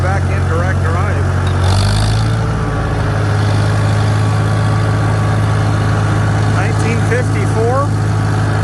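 A 1954 Farmall Super M-TA tractor engine drones loud and steady in direct drive on flat ground after a hill, with someone talking over the engine.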